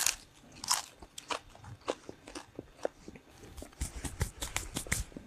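Close, crisp crunching as someone bites and chews a thin slice of microwaved ham that has turned crunchy, with irregular bursts of crackly bites and no talking.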